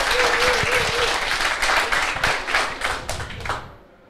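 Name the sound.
applause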